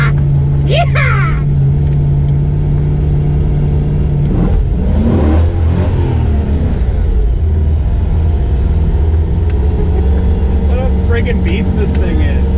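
Off-road vehicle engine revving hard through snow in two-wheel drive, a loud, steady low rumble with surging throttle swells, while people shout and cheer over it.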